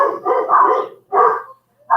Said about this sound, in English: this is kind of fun with the dogs barking